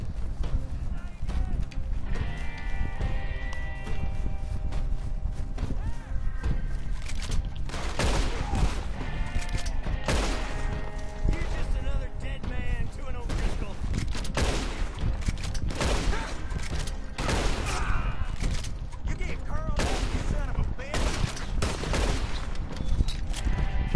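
Gunfire in the Red Dead Redemption 2 Online video game, repeated sharp shots scattered through a busy mix of game sound and hoofbeats, with a voice talking over much of it.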